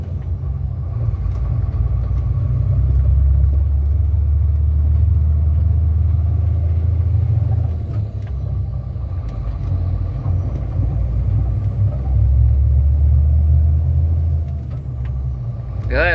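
Automatic-transmission car climbing a steep hill with the accelerator held steady, giving a loud, continuous low engine rumble throughout, with no speech over it.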